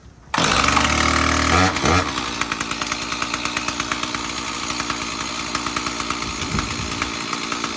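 A 1989 Stihl 026 chainsaw with a new air filter starts abruptly after a pull and runs loud and close, its engine settling into a steady, slightly uneven idle.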